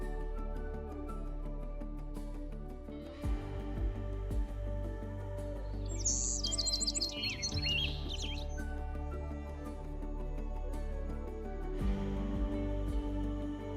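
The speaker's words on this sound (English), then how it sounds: "Okay, chirp at me." A small bird in a video game chirps in a quick burst of high tweets partway through, heard over a soft, steady musical background.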